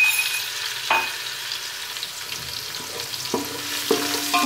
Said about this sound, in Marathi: त्यात टाकतोय आपण लसणाची 5-6 पाकळ्या आपण ठेचलेल्या आहेत।